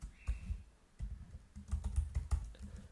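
Liquid template code is typed on a computer keyboard in a steady run of soft, close key clicks with a brief pause early on, and no voice over them.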